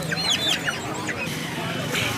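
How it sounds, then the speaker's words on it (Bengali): Several chickens cluck and squawk in short bursts amid a busy background murmur at a weekly poultry market in Sirajdikhan Bazar, Munshiganj, Bangladesh, fairly close by. "এখানে আসলেই দেখতে পারবেন নানান রকম মুরগি দেশি মুরগি দেশি হাঁস"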